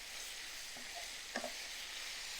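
Finely chopped vegetables sautéing in oil in a pan for oats veg pulao, a soft continuous sizzle with a couple of faint stirring scrapes.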